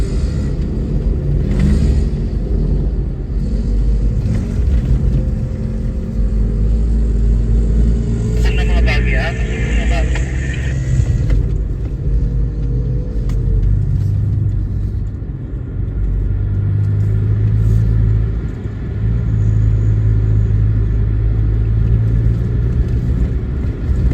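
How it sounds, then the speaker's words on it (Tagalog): A 2022 Nissan Xterra drives in third gear at about 2000 RPM toward desert sand dunes in the UAE, a low steady engine rumble with road noise under a person talking. "nagda-drive tayo ng around 40 kilometers per hour, then naka third gear, 2000 RPM"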